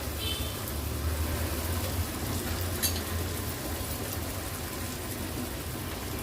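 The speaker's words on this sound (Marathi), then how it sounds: "ही फोडणी छान अशी शिजवून घ्यायची आहे आपल्याला" Tadka tempering sizzles steadily in hot oil while cooking for dhaba-style dal, a continuous broadband frying hiss with low stirring rumble, close and even throughout.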